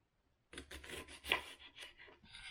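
Knife finely chopping onion on a cutting board in a village-house kitchen while making Caucasian manti, a quick run of close, crisp scraping cuts with one sharper stroke midway.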